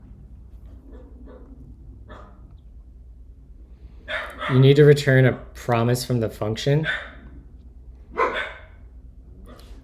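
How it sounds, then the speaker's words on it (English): A dog barks in short bursts in the room during a late-night coding livestream, a handful of close yips mixed with someone talking over them. "Sorry about the barking, chat."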